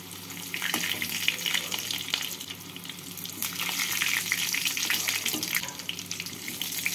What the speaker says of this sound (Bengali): বাকি আলুগুলোকেও একইভাবে ভেজে নেব।